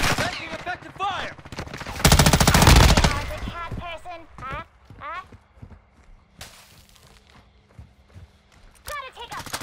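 Bursts of machine gun fire in a war video game, a loud dense rattle of rapid shots with a few scattered later pops, mixed with shouted voice callouts and footstep-like clatter.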